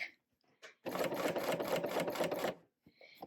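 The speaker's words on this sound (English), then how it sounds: "so I kind of like to slow down and give my machine a break" A serger stitches a nylon zipper pouch in one loud, steady run of about a second and a half at a slowed pace, with a few faint clicks before and after.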